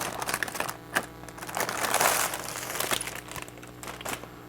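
Hands unwrapping tight product packaging for a punch-free shelf and toilet scrubber, with continuous close crinkling and crackling of wrap and scattered sharp snaps.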